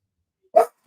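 A pet dog gives a single short, sharp bark close by in an otherwise quiet moment, with no one speaking.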